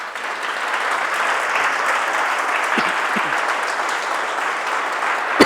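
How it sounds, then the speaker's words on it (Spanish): A church congregation applauds loudly and continuously, a dense wash of clapping from many people that holds steady from start to finish. "¿Le das un aplauso al Rey?"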